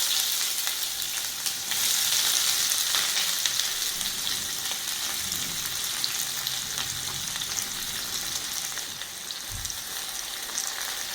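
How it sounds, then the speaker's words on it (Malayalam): Chopped onions fry in hot sunflower oil in a kadai, a steady close sizzle with occasional stirring scrapes and no voices. "എണ്ണ ചൂടായിട്ടുണ്ട് ഇതിലേക്ക് സവാള നമുക്ക് ചേർത്ത് കൊടുക്കാം"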